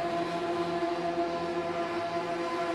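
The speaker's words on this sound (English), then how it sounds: "lights are up, engines are revving" Radical race car engines rev at the start of a race, a steady layered drone of several motors held throughout.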